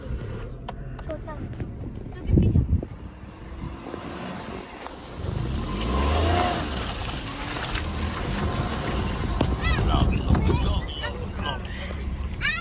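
A car climbs a muddy forest path in rural Punjab, its engine rumbling and swelling under steady broadband noise, with people talking in the vehicle throughout.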